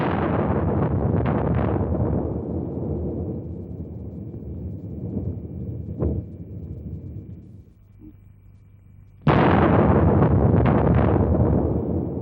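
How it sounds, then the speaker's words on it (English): A massive nuclear bomb explosion, equivalent to more than 50 million tons of TNT, roars with a deep, sustained rumble that slowly fades, then a second thunderous blast surges back loudly. "The explosion was the equivalent of more than 50 million tons of TNT"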